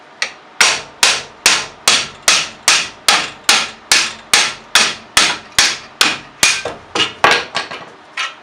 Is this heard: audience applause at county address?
no